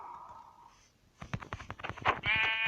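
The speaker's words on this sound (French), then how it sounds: "Excuse-moi, mouton, je vais devoir te tuer." A sheep bleats in the Minecraft video game, a short wavering call up close that follows a quieter tone and some thudding game noise.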